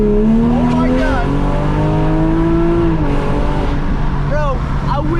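A revving engine from an MK5 Toyota Supra kicked sideways in a slide, loud and sustained with rising and falling pitch over about five seconds, while someone talks excitedly over it.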